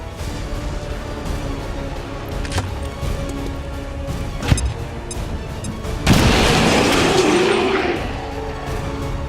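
A frag grenade goes off in XCOM 2 War of the Chosen: a sharp crack followed moments later by a loud, sustained blast with rumbling debris, amid game combat noise.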